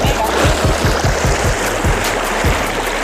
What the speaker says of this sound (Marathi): एकदम छान वाटतंय पाण्यात पाय टाकून